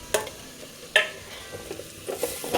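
Tomatoes, red chilli powder, curry leaves and dalcha masala frying in a pan for veg dalcha, with a few sharp stirring scrapes over a faint sizzle, close and alone.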